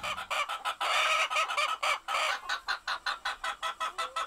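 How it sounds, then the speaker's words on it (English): American Leghorn chickens on a large working farm, giving a close run of evenly spaced clucks in a steady rhythm with no other sounds around them. "American Leghorn, strutting and softly clucking, is also busy"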